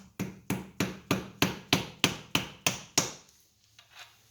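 A hammer taps a part held loosely in a vise during a Graco 650PC repack rebuild: about nine sharp, evenly spaced strikes close by, then a faint shuffle.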